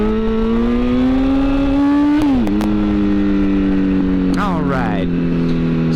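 Motorcycle engine revving at around 3,500 RPM with the clutch pulled in for a first gear wheelie, a loud steady engine tone that climbs, dips sharply, then sags, heard up close.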